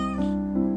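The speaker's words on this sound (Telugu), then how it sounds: "ఇది పిల్లి." A domestic cat meows once, a clear, close and fairly loud drawn-out call with a slight rise and fall, alone without talk.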